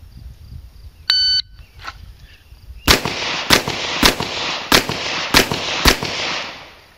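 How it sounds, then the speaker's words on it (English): Revolver shots fired at targets during a qualification course, six sharp loud reports in quick succession, evenly spaced about half a second apart, preceded by a brief electronic start beep. "Draw and fire 3 rounds on each target."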